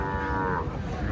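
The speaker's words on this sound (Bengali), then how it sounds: "সাইওয়াল জাত। বেড়ি বাছুর।" A Sahiwal breed calf at a crowded cattle market gives one long, loud, drawn-out moo close by, with a muffled market hubbub underneath.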